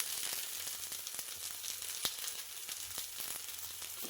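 Brinjals (eggplants) frying in oil in a kadai, with a steady close sizzle and scattered small pops and crackles throughout, no talking.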